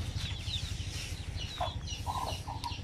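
Native chickens clucking in short bursts at moderate distance over a steady low rumble of background noise.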